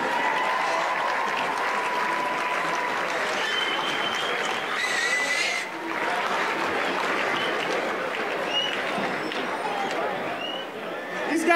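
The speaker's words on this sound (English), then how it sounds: "Give those guys a big round of applause." Loud, sustained applause from a crowd at a Pig N Ford race, steady clapping and cheering that continues without pause, with a voice calling out over it.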